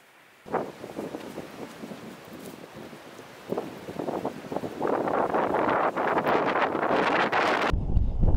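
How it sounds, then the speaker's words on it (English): Strong outdoor wind batters the microphone in rough, crackling gusts that start in bursts and then build into continuous loud buffeting before cutting off abruptly. "It is literally so windy right now."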